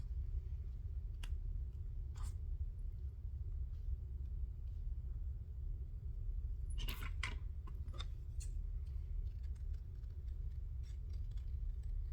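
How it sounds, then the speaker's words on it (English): Scissors snipping paper while fussy cutting a word out for a boho shaker tag, a few short crisp cuts clustered midway over a steady low background rumble, with no talking. "I think I am going to fussy cut that word out"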